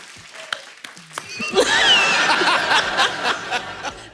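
Studio audience on The Kapil Sharma Show breaking into applause and laughter after brief quieter moments, building into a loud, sustained burst of clapping.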